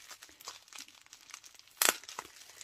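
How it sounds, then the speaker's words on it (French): Small bubble wrap crinkles and rustles as items are pulled out of it for a scrapbooking gift, steady soft handling noise close by with one louder crackling burst near the end. "je vais enlever ce qu'il y a dans le petit papier bulle."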